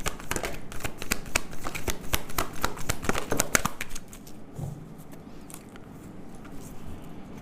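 Tarot cards being shuffled briskly and continuously up close, a dense papery riffling that stops partway through, leaving a quieter room with faint handling noises and no talking.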